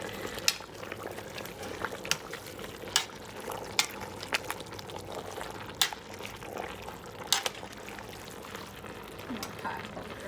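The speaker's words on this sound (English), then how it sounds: "We're gonna give this a good stir." Collard greens with pig tails are stirred in a cooking pot, giving a soft continuous bubbling and simmering bed broken by repeated sharp scrapes and clinks of a utensil against the pot.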